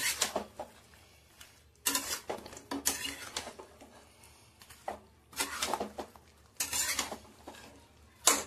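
Fried pakoras are stirred into chilli chicken in a pan, with bursts of metallic scraping and clanking from the spoon against the pan, separated by brief quieter pauses.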